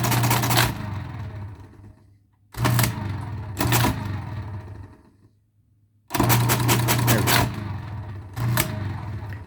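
A Marchant mechanical calculator running a multiplication: loud, fast mechanical whirring and clattering in several bursts, each a couple of seconds long, separated by near-silent pauses and ending mid-run.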